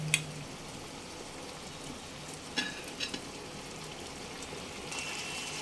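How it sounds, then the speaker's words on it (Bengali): Fried potato and fish pieces go into a pot of boiling water for a Bengali amudi fish curry, giving a steady soft sizzle and bubbling with a few sharp clinks, close and alone without talk. "এবার আগে থেকে ভেজে রাখা আলু ও মাছগুলো সব দিয়ে দেবো"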